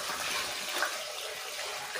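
Water pours in a steady, close hiss into a rust-removal soak for a four-jaw lathe chuck, a continuous splashing stream with no talk.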